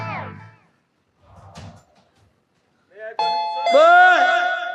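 On stage in a Marathi comedy play, brief spoken voices give way to a bright, ringing doorbell chime that sounds loud and clear near the end.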